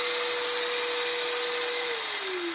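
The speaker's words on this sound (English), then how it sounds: "shoots water in here, sucks it right back in the hose, it cleans it" A Bissell spot cleaner sucks water through its hose with a loud, steady, close-up suction roar and a whining tone that dips in pitch near the end.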